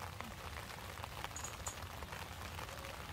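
Soft rain pattering on garden flowers such as daisies and wood sorrel, a faint, continuous drizzle of scattered droplets with occasional tiny ticks, steady and close.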